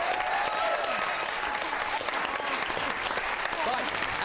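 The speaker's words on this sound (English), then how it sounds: "And a round of applause for Frank Woodley." A studio audience at a Christmas episode of a music quiz show gives Frank Woodley a round of applause, a steady roar of many hands clapping, with faint scattered voices and cheers mixed into the crowd noise.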